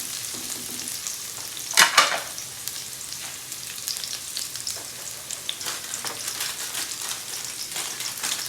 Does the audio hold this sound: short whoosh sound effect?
no